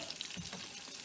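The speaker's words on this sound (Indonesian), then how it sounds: "Ini kalau oseng saya hanya bawang merah sama bawang nih." Sliced shallots and garlic stir-fry in a pan for a sambal terasi steak sauce, giving a soft, steady sizzle with light scraping of stirring, fairly quiet and without talk.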